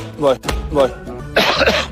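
A man coughs and clears his throat in a classroom, a couple of rough close bursts followed by a louder, harsher burst near the end.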